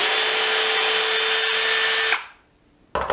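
A Hitachi DV18DBFL2 cordless drill whines steadily at close range while backing screws out of wood, then cuts off abruptly, leaving a brief pause before a short burst of renewed drilling.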